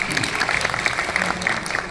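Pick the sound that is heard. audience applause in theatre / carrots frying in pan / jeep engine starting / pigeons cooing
audience applause in theatre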